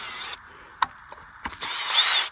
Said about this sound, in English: Just gotta take the screws out now